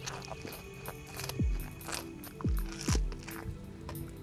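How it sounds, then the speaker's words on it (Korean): Napa cabbage is chewed close to the mic for foley, with the mouth shape varied between bites. Three heavier, damp crunching bites stand out over a steady bed of softer squishy chewing. "입 모양을 조절해 씹는 소리도 다르게 내본다."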